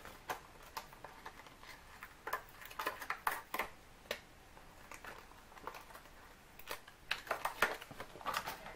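A rubber stamp taps repeatedly onto a card to print foliage, giving soft, close clicks and pats in irregular bursts against a faint, quiet background.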